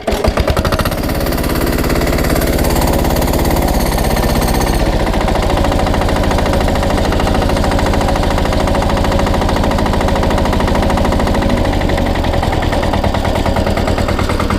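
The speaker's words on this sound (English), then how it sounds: "start it up and it won't start the flywheels until you speed it up, and then you can always just idle it down" A SpeedPro wood splitter engine runs at low idle with a rapid, rough, pulsing knock, loud and close, slowing slightly after the opening seconds and then chugging steadily throughout.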